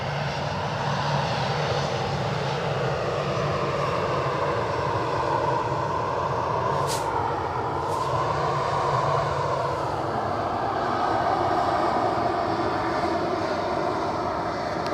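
An EasyJet airliner bound for London Gatwick at Edinburgh Airport produces a steady, moderately loud jet engine drone that holds evenly throughout with slight shifts in pitch and no voices.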